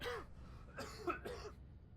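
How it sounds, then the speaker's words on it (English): A few harsh coughs close to the microphone, one short burst followed by two more after a brief gap. "That cough just came out of nowhere, I swear."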